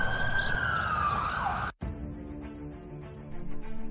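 A police siren wails loudly, its pitch sweeping downward before cutting off abruptly, leaving quieter background rumble and faint noise.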